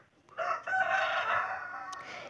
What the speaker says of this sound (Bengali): মোরগটা এত ডাকছে, বারে বারে মোরগটা ডাকছে